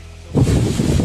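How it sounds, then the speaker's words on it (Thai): Strong wind gusts in a hotel garden in Katoomba, Australia. After a quiet start, a sudden loud rush of wind buffets the microphone and roars on steadily to the end. "ลมแรงค่ะ"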